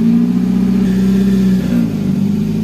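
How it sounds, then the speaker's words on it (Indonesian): A Nissan Grand Livina engine idles steadily up close during idle learning, a loud low hum with a slight shift in pitch partway through as the idle settles and sways. "RPM udah di bawah 1000 tapi ngayun."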